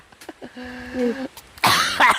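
A voice speaks briefly, then a harsh, loud cough bursts out near the end, rough and breathy.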